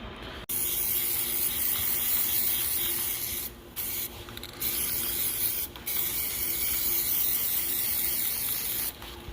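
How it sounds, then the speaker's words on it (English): A spray can hisses in long continuous bursts close by, with brief pauses between passes as parts are painted. "5 minutes with a spray can, you get all these"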